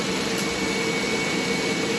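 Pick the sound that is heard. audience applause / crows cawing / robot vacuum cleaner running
robot vacuum cleaner running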